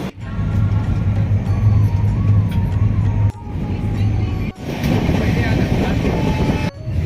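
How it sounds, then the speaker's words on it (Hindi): A passenger train rolls along the rails near Rampur in India, with a loud, continuous rumble and a steady hum heard from on board, broken by two short drops in level. "इस ट्रेन पहुंच चुकी है रामपुर"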